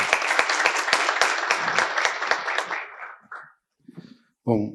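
Audience applause for a speaker at a sustainable-innovation panel, steady clapping that fades out over about three seconds before a brief pause and the start of a voice.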